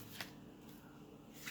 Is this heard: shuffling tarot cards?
yes